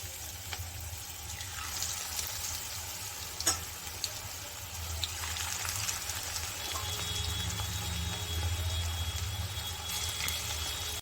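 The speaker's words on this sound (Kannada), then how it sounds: "ಸೆಕೆಂಡ್ ಬ್ಯಾಚ್ನು ಚೆನ್ನಾಗಿ ಇದೇ ಥರ ಫ್ರೈ ಮಾಡಿ ತಗೋಬೇಕಾಗತ್ತೆ" A second batch of potato and onion bonda or pakoda snacks bubbles in hot oil with a continuous close sizzle, a low rumble underneath and a few faint clicks.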